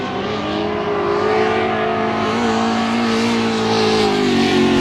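A drift car on Nexen tires roars through a Formula Drift Pro 2 qualifying run in Texas, its engine loud and sustained at high revs with shifting pitch and tire noise, continuous and close throughout.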